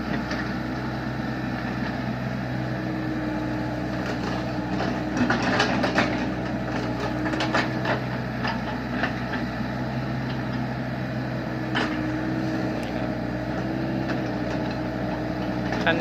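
A CAT 313 excavator's heavy diesel engine idles with a steady low rumble for the whole stretch, with faint clicks and rattles on top.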